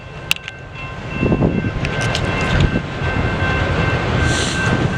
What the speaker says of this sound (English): There's a train down there at the Columbus Avenue number 3 crossing down there. That train's moving.